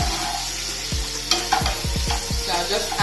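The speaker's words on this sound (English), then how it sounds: "So I'll just allow this to fry for some more." Onion sizzles and fries in butter in a pan, a steady close crackle broken by several knocking scrapes of a utensil stirring against the pan.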